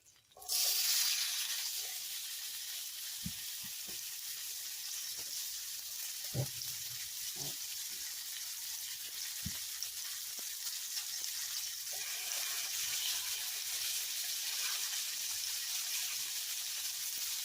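Lamb shoulder chops sear in butter and oil in a hot pan, giving a steady bright sizzle throughout, with a few soft clicks and taps of the pan and utensil beneath it.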